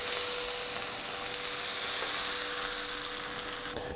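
Hot oil carrying spices, including asafoetida resin, poured into a traditional Indian coconut chutney gives a loud, steady sizzle close up. It runs for about four seconds and then cuts off abruptly, with no voices.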